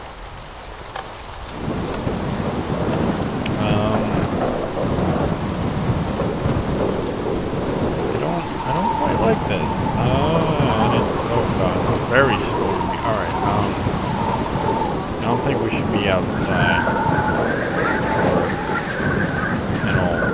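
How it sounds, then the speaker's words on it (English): A Minecraft thunderstorm pours steady rain with rolling thunder rumbling underneath, loud and continuous for the whole stretch, with no talk over it. "Stay in here and we can wait for the storm to pass."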